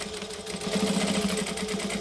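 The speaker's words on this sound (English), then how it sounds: "I'm going to top stitch around the 3 sides we haven't stitched yet" A sewing machine runs steadily while top stitching around a bag pocket, a close, even mechanical whirr of rapid needle strokes heard alone.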